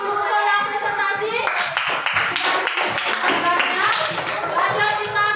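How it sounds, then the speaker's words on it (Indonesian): An audience at a school coaching and supervision session claps for presenters, a dense, continuous patter of many hands that stays steady and close throughout, with faint voices mixed in. "Tepuk tangan untuk yang presentasi."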